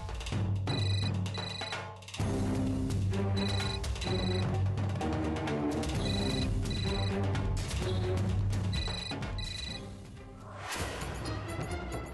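A telephone rings after a call is placed, repeated electronic ring bursts in a steady on-off rhythm with a musical backing, loud and continuous with no voices.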